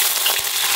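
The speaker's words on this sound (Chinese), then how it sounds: "豆瓣酱、干辣椒，再来块火锅底料，给它炒锅炒香" Chili bean paste, dried chilies and a block of hot pot base sizzle loudly in a wok, a dense, close hiss of frying oil with a brief stirring scrape.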